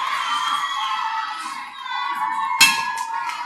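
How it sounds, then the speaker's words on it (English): A boxing crowd cheers and shouts in the closing seconds of a bout, a dense sustained roar with whoops and a sharp clap-like burst near the end. "You can see the crowd get involved in the last 10 seconds of the fight."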